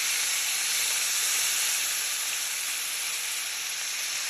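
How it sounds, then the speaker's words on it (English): Onions frying in oil reused from an earlier batch for a Dominican mangu dish, giving a steady, loud, bright sizzle and hiss that runs unbroken with no voices. "Now we're gonna do the fried onions. So you're just gonna use the same oil."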